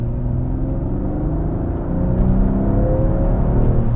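A 2021 Mercedes-Benz E-450 Cabriolet's 3-liter inline-six accelerating from inside, a smooth, steady engine hum and whir that climbs and grows louder partway through, with road rumble beneath and no talking.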